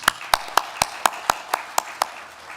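A few graduates at an online graduation ceremony clap for themselves: about nine crisp, evenly spaced handclaps, fairly close and steady, then fading out.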